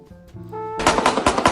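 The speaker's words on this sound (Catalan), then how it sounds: "No són cops de martell, són trets." Rapid bursts of gunfire rattle out after a brief tonal lead-in, a loud string of closely spaced shots in a gunfight between rival families in the La Mina neighbourhood.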